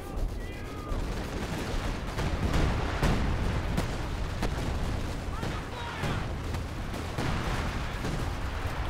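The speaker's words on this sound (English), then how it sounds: "so 105 artillery being dropped in this area" Explosions from a 105 artillery barrage in Company of Heroes 2 thud repeatedly over rumbling battle noise, several heavy impacts spread across the stretch, mid-distance, with scattered smaller gunfire and effects mixed in.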